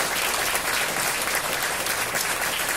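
Dense, steady applause from a concert audience at a Women's Day choir concert, sustained and loud throughout with no talking over it.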